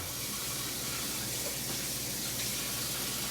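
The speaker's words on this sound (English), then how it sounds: "All right, we gotta wash your hands." Tap water runs steadily into a sink while a toddler's hands are washed, a continuous close splashing flow with no pauses.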